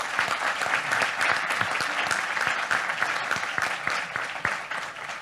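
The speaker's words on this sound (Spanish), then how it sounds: "Un aplauso para la doctora." A conference audience applauds after an energy-industry panel talk, many hands clapping in a steady, moderately close patter with a few sharper individual claps standing out.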